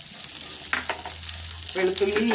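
Garlic fries in a pan for a sadhya-style lemon pickle, giving a steady close-up sizzle with a few sharp spatula scrapes and stirring clatters.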